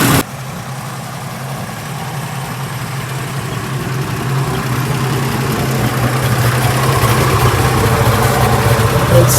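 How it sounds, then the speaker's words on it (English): A 1974 Ford F250 engine idling steadily just after starting, a loud, continuous low rumble close by that grows slightly louder over the stretch, with no talking. "Starts right up with a fresh battery, no problem."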